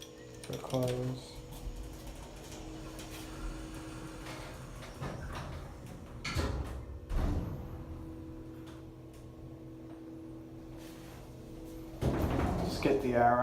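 Otis hydraulic elevator doors at a resort building slide shut with several clunks and rattling knocks spread over the span, over a low steady hum.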